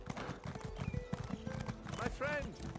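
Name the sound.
horse galloping in video game Elder Scrolls Online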